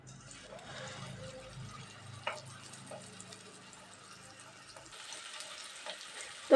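Raw potato pieces fry in a little hot oil in a nonstick pan, a faint, quiet sizzle with occasional small ticks and pops that brightens slightly near the end.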